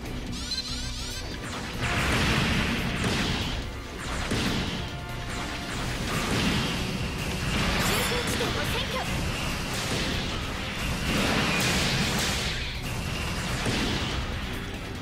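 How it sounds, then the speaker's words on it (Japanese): Battle action from the PS4 game Gundam Battle Operation NEXT: a dense, continuous wash of crashes, impacts, mechanical clanks and blasts at moderate volume, while someone talks over the top. "ちょっとゲーム内の音大きいですね。"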